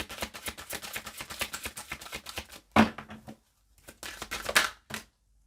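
Tarot cards being shuffled by hand, a quick run of close, crisp riffling clicks, then a sharp snap and a couple of shorter bursts of card handling after a pause.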